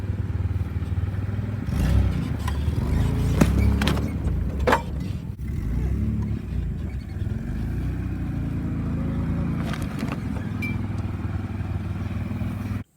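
A car rolls over cardboard boxes during a package crush test, engine droning throughout with a few sharp crunching, clattering impacts early on, then a steady idle-like rumble.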